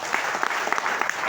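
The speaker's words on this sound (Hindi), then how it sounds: "मैं चाहूंगा ये दोनों लीडरों के लिए जबरदस्त" Audience in a training hall for a Safe Shop business session in Burdwan breaks into steady applause honouring two leaders, a dense patter of many hands clapping at close range for a short burst.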